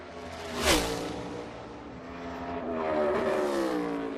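NASCAR Cup Series race car at the 2022 championship race qualifying, engine roaring loud and close as it passes, pitch dropping on a downshift then climbing again as it accelerates through the corner, no talk.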